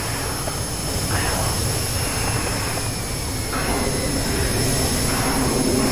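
Jet engine of an F9F-5 aircraft in the DCS flight simulator during a Korean War dogfight, a loud, steady roar with a high whine running throughout and no talk.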